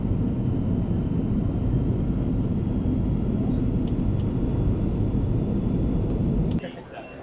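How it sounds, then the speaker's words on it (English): Airliner engines roaring steadily from inside the cabin during takeoff, a loud, continuous low rumble that drops off sharply near the end. "Will the flight attendants prepare for takeoff, please?"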